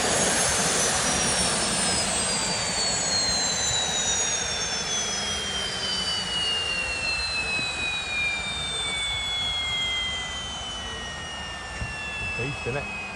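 A large agricultural drone used for aerial seed sowing of oilseed rape drones loudly with a high, whining engine tone that sweeps in pitch as it moves overhead, steady and continuous throughout.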